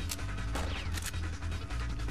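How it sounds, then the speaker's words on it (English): Gunfire in a Mission Impossible video game: several sharp, loud cracks stand out over a dense, noisy background of game action, with bursts spaced unevenly across the moment. "now where'd that gunshot come from?"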